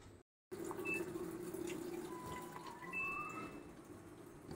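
Water runs steadily into a washing machine tub as it fills during a tub-cleaning cycle, a continuous close splashing flow with a couple of faint beeps.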